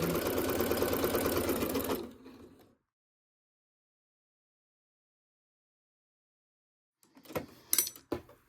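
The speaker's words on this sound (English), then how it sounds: "I'm just going to line this up here and start sewing, do a little back stitch, and sew all the way around." Sewing machine stitching fabric pieces together, a fast steady whirring run that stops abruptly, followed after silence by a few short clicks and handling noises.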